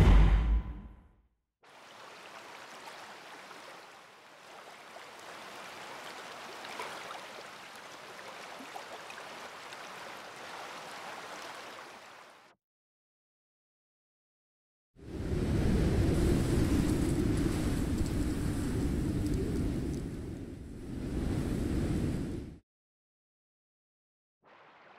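Rushing water flows in two long stretches separated by silence, the first softer and hissier, the second louder and fuller with a deep roar.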